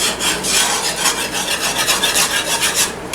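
A spoon or whisk stirs a flour mixture into cream, loosening and dissolving the lumps with a steady scraping, rasping swirl that runs close and continuous throughout, with no talking.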